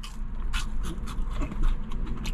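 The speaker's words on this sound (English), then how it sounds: "Can you hear the crunch?" Crisp crunching bites into a fried cornmeal hush puppy at a Southern barbecue plate meal, a few sharp bursts close to the mouth over a steady low background.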